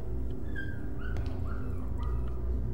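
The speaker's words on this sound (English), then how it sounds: "Okay, the little doggy." A small dog gives several thin, high whimpers and whines that rise and fall across a few seconds, set over a steady low rumbling background noise.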